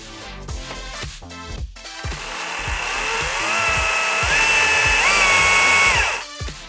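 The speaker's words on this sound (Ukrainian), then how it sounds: "Ви можете використовувати важель керування з функцією потенціометра, щоб плавно регулювати швидкість вашої ланцюгової пили." STIHL MSA 70 C cordless chainsaw with variable speed trigger, starting with short bursts, then a sustained rising electric motor whine held steady for a few seconds before cutting off; loud and close, no talking.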